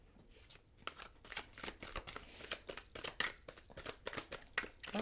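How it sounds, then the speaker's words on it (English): Playing cards are shuffled close up in a quiet room, with repeated crisp riffles and flicks in quick uneven bursts. "Oh, these cards don't want to shuffle."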